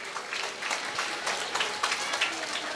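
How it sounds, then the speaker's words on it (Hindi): Parents in a school audience clap for first-standard child performers at an annual function, a steady patter of scattered hands filling the hall. "Let's give our tiny performer a huge round of applause."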